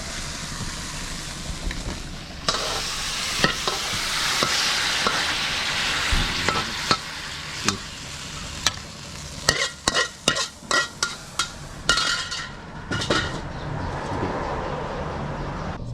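Vegetables and crispy pork stir-fried in a wok at a food shop: a steady loud sizzle under busy scraping and metal clanks of the spatula, with a fast burst of rhythmic strikes toward the end.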